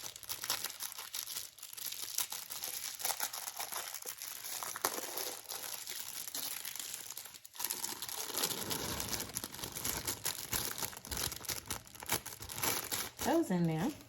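A package of blueberries crinkles and tears open, and the berries are added to muffin mix in a kitchen. The plastic rustle runs steadily and fairly close, with soft thumps and a scrape near the end, and no talking.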